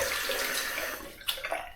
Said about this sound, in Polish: Zimna woda.